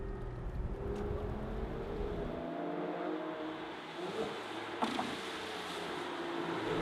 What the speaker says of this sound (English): this roof only takes 14 seconds to fully close